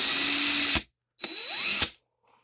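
A DeWalt power drill runs in two bursts, a high whine that spins up and cuts off, then restarts after a short pause and winds down, loud and close.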